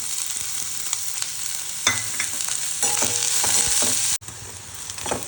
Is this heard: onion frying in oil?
yes